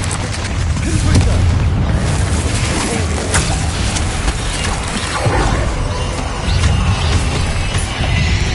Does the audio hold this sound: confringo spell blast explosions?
yes